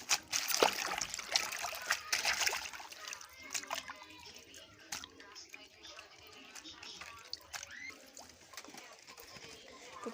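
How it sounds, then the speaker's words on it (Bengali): Water splashes and trickles as Malabar spinach leaves are washed by hand, giving uneven sloshing and dripping that is busiest at first, then thins to intermittent splashes close by; a voice talks at times. "তো পাতাগুলো ধুয়ে নিলাম"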